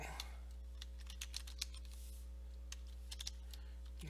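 Someone types ipconfig all at a computer keyboard, a quick run of light key clicks in short bursts over a steady low hum, close and fairly quiet with no talk.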